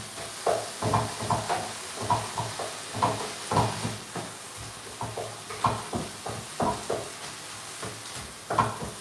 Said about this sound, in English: So again, we mix the beef.